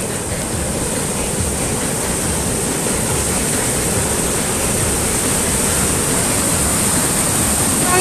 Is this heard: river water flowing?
yes